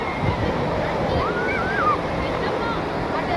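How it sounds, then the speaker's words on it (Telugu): Waves wash onto a large beach in a continuous rushing roar, steady and fairly loud, with wind on the microphone and faint voices in the background. "పెద్ద బీచ్ అండి బాగుంటుంది ఇది"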